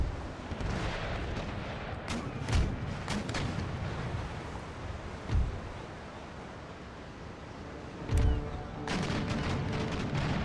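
Naval cannons fire in the Empire: Total War strategy game, with three heavy booms spaced a few seconds apart over a rolling, rumbling battle din.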